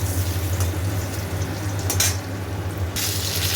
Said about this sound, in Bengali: আলুগুলো দিলাম, আলুগুলো একটু ভাজা হোক